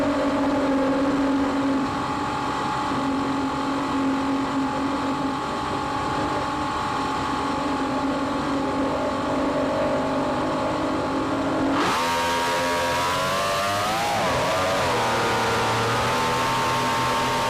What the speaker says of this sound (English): There, hear those engines revving up.